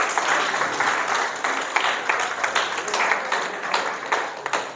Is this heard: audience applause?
yes